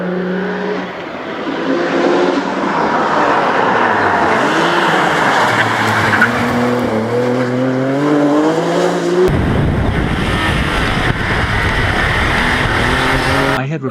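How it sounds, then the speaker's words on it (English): A Nissan Skyline engine revs hard and climbs in pitch through successive gear changes, loud and close. Partway through, it breaks into a rougher, noisier roar, with no voices heard. "I was driving a Nissan Skyline."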